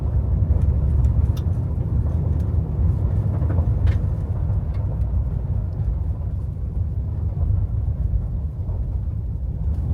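A truck rolls onto a gravel road after hurricane damage in heavy rain, giving a steady, loud low rumble of engine and tires throughout with faint crunching above it.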